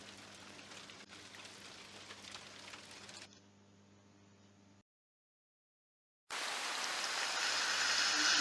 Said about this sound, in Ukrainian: Так, йде невеликий дощик.